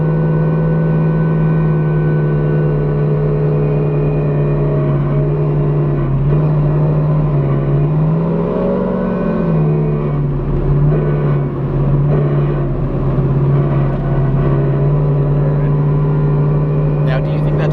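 A car makes a loud, abnormal droning whine while driving, a steady tonal hum with slight pitch wobbles that stays close and constant throughout, with a voice talking over it.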